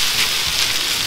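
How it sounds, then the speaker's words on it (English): Rice tipped into a hot pan for Vietnamese fried rice, giving a steady loud hiss and crackle like heavy rain that runs the whole time with no talk. "And then we're going to add in the rice."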